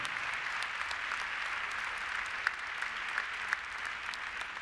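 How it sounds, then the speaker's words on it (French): Applause rises from the crowd at an international show jumping event in Bordeaux as a Swiss rider is honoured, a steady even wash of clapping with a few sharper claps standing out. "Et vos applaudissements à nouveau pour le cavalier suisse, Pius Schwitzer."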